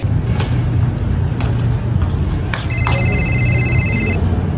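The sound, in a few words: telephone call ringing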